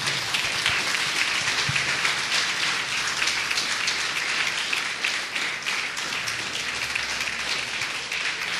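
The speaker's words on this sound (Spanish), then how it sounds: "Le damos un fuerte aplauso a Jesús." A church audience claps for a staged performance of Jesus calming the storm, a dense, sustained wash of many hands clapping that stays steady and loud from start to finish.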